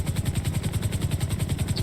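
Steady, loud helicopter rotor thumping in the FiveM GTA V game, a continuous rhythmic chop with an engine whine filling the whole stretch, no one talking.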